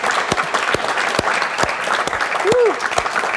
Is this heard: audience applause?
yes